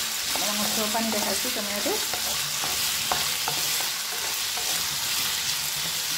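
Potatoes frying in a pan, cooked until reddish, with a steady hiss of oil and scattered scraping clicks of stirring, someone speaking over it.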